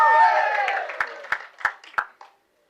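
Scattered claps from an audience at the Kaakka film audio launch, a few sharp distinct hand claps spaced out after a fading voice, thinning to silence.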